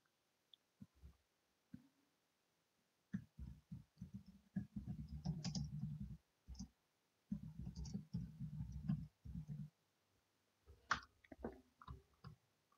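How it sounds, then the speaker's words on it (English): Someone types a note on a computer keyboard in a productivity app: clusters of quick, soft key clicks in bursts with short pauses, fairly close, with no talking. "So I will type it in here."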